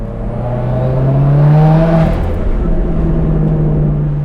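A 380 WHP Subaru WRX drives a canyon road with its exhaust droning loud and near, rising in pitch as it accelerates, then easing and building again as the sound reflects off the rock walls.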